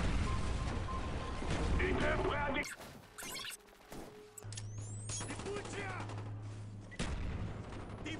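Grenade explosions and gunfire in a Call of Duty match sound as sharp, loud bursts and crashes, with cuts between bursts and a steady hum under part of it.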